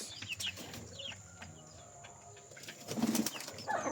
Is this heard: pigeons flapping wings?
yes